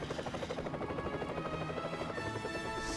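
A helicopter flying in the LEGO Batman video game, a steady buzzing rotor drone that holds at an even, moderate level throughout with no talk over it.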